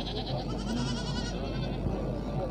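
A goat bleats at a crowded goat market, its wavering cry rising over dense, noisy background chatter and crowd bustle throughout.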